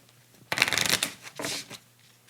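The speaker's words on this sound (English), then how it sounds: "we go ahead and shuffle this" A deck of Juggalo cards for a deckbuilding board game is shuffled in two quick riffling bursts, the first longer and louder, the second shorter, close and crisp with no talking.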